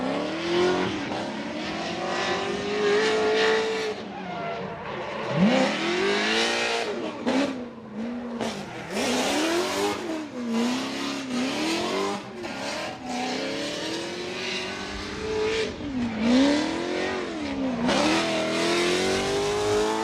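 A Formula Drift ProSpec car in a top 32 run fitted with a Link ECU, engine revving hard and rising and falling repeatedly while tires squeal and skid continuously, loud and close throughout.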